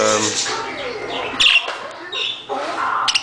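Pet budgies chirp and squawk nearby in a home aviary setting, with several bright, short calls and warbling bursts, some louder than others.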